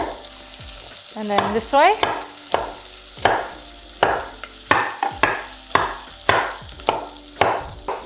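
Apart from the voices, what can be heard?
knife cutting through cauliflower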